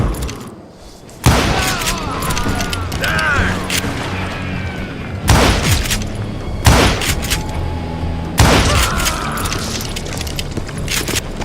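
Gunfire in the Western video game Call of Juarez, a sustained shootout with heavy booming shots cutting in every couple of seconds over a dense continuous din of battle noise, loud and close.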